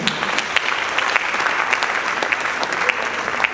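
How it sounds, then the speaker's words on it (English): A conference audience at a language conference gives a steady, sustained round of applause, dense and even throughout, with no voices over it. "another round of applause for her"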